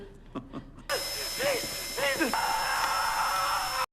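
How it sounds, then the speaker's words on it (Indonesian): After a few short voiced sounds, an antique power drill starts up with a sustained high whine while a person groans and cries out over it. "Dia mengeluarkan mesin bor dan mulai mengebor kaki Ed."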